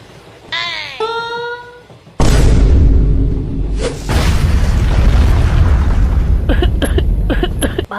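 A cartoon bomb blows up with a sudden loud boom that rolls into a long rumbling roar, preceded by a rising whistle-like tone and followed by sharp crackles near the end.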